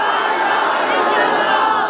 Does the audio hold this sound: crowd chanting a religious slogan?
yes